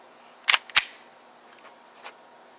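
Two sharp, close reports from a Glock G44 .22 pistol loaded with Stinger rounds, fired about a quarter second apart, followed by a faint third pop, with no talking.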